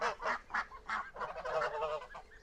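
Several geese honking nearby in a quick series of loud, nasal calls, overlapping toward the end.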